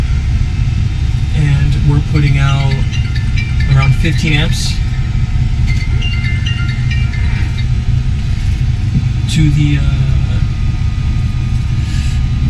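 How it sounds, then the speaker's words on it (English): A Four Winns V255 boat engine idles, a steady low rumble that runs continuously at close range beneath a man's speech. "So you can see right now we have the engine at idle,"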